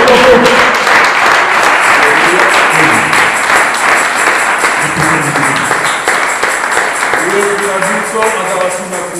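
A church congregation applauding and acclaiming Jesus: dense, sustained clapping from a crowd with voices shouting and singing over it, loud and close, tapering slightly toward the end.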